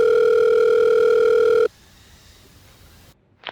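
A steady telephone tone hums loudly for about a second and a half on a phone call, then cuts off abruptly to faint line hiss and a brief click at the end.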